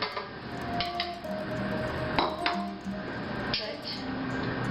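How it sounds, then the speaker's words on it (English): Egg yolks slipping into a mixing bowl, with a few sharp clinks of shell or utensil against the bowl and soft wet squishes spread over several seconds, close by over a steady kitchen background hum. "So I'm going to put the egg yolks in"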